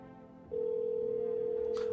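A steady electronic telephone tone from the game No I'm Not a Human sounds as a call to the neighbor is placed, starting abruptly after a quieter lead-in and holding continuously at moderate volume.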